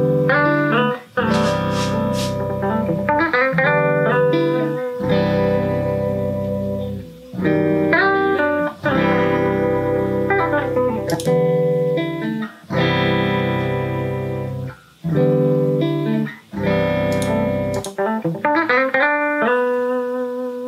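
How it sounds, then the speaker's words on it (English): Raw electric guitar played straight into an audio interface with no plugins or effects: clean, ringing chords and single notes strummed in phrases, each sustaining then stopping in short gaps, loud and alone. "that's the raw audio, just guitar straight into the interface, no plugins, no nothing"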